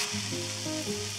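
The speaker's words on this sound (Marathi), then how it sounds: "हे बॅटर हलकंसं पातळ आपण केलं आहे, त्यामुळे हे तव्यात घालताना" Thin amboli batter hits a hot ghee-greased tava and sizzles steadily, a close, continuous frying hiss with faint tonal hum underneath.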